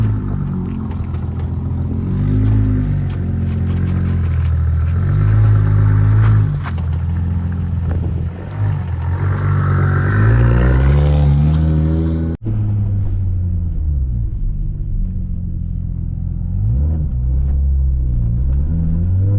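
A BMW E90 drift car drives with a loud, rumbling engine that rises and falls in pitch as it accelerates and shifts. The sound cuts abruptly partway through, then the engine resumes at a lower, steadier level. No one speaks.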